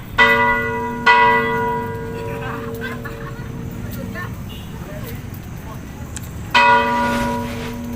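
A church bell in a provincial town in the Philippines tolls three times in the afternoon, each loud ringing strike decaying slowly, with outdoor background noise and distant murmuring between strikes.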